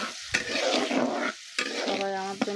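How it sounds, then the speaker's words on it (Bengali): Spice paste sizzling and being stirred in a pan, made ready for small freshwater sand fish, with a steady frying hiss broken by a few spatula scrapes and clacks, close and fairly loud. "মশলাটাকে কষিয়ে নেব।"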